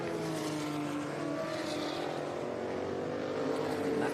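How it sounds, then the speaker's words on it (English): A 1989 Porsche 962C race car at Laguna Seca gives a steady, droning engine note that holds throughout at moderate distance, with no clear rise or fall in pitch. "That car of Duncan's a 1989 Porsche 962C"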